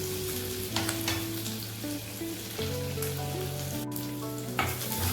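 Grated coconut and curry leaves sauté in a pan with a steady, close sizzle, broken up by the scrape and stir of a spoon, and no one talks.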